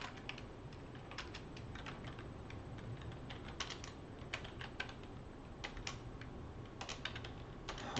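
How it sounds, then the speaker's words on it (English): Rapid, irregular key clatter comes from a QWERTY computer keyboard, typed continuously at close range with no talking. "Oh, I hate using a QWERTY keyboard."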